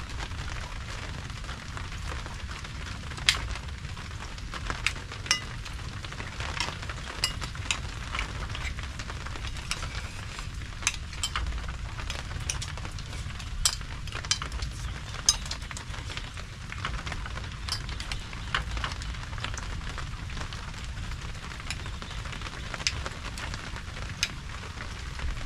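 Heavy rain falls steadily on an outdoor surface at a farm, a dense continuous hiss with scattered sharper drops and splashes, no voices.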